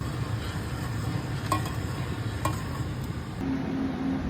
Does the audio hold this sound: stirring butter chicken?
yes